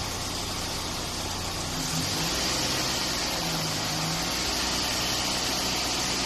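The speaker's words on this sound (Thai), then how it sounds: "เร่งเครื่องครับ" The engine of a Mira car runs during an air-conditioning check, with a steady, loud drone and a slight rise in intensity partway through. No one speaks.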